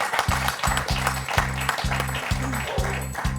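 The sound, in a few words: studio audience applause on quiz show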